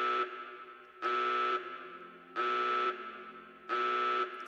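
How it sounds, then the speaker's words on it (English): A security alert siren from the HBM Nuclear Tech mod for Minecraft blares in four loud, harsh, buzzing horn-like blasts, each about half a second long and separated by short quieter gaps, with no talking. "That's the security alert."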